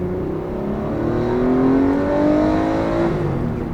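A Porsche RS sports car engine revs hard and climbs steadily in pitch, loud and close, a continuous rising mechanical drone lasting a few seconds with no voices.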